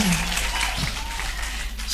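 At a church meeting, a crowd applauds steadily in a dense continuous wash, with voices audible within it.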